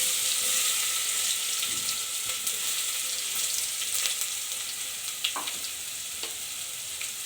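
Ground masala paste sizzles in hot oil with a bay leaf and star anise, a steady close frying hiss with a few faint clinks and stirring sounds and no talk.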